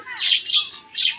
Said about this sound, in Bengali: আর পাখিরা সুন্দর কিচিরমিচির করতেছে।